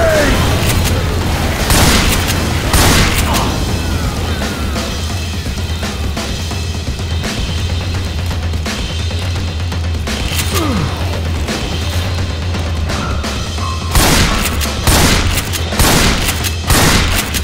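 In the zombie shooter Left 4 Dead 2, heavy booms and bursts of gunfire come through a dense, continuous battle din, with louder blasts clustering near the start and end.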